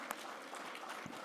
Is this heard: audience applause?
yes